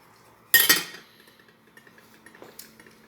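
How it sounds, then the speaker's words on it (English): A spoon clatters against a cooking pot while stirring meat for Mexican drowned tortas, one loud scraping clink followed by faint small clinks and a soft low hum. "with a spoon, you will move the meat only for get a good part in the pot"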